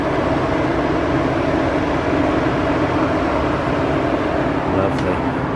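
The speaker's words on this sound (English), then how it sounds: "Oh, I hear it trying to cool down. Yeah, your fans are on." Cooling fans on a BMW E92 M3 whir steadily after a drive, a constant broadband rush close by that holds unchanged throughout, with voices talking over it.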